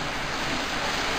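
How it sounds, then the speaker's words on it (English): Jets in a hydrotherapy tub churn the water in a steady, loud rush with no break, a continuous turbulent wash heard up close with no voices. "They're running the jet."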